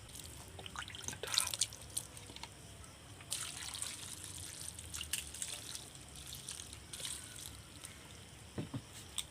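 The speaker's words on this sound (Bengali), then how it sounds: "চাউমিনটা ঠান্ডা করার জন্য এবার আমি ঠান্ডা জল মারবো" Cold water poured over boiled chow mein noodles for chicken chow mein, heard as uneven splashing and dripping with brief louder bursts and a steady trickle, close by, with no talk.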